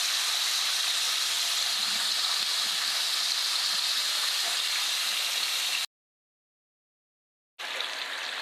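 Pork chops frying in vegetable shortening in a pan, a steady loud broadband sizzle that runs unbroken, cuts to silence briefly, then resumes.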